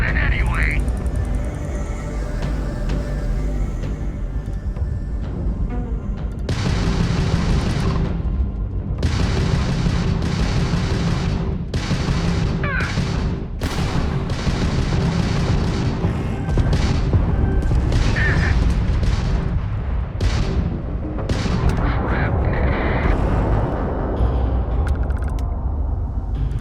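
Ballistic weapons fire from starships during a space battle in Starfield, with repeated booming bursts and crackling impacts over a dense rumbling background, while a voice talks at times.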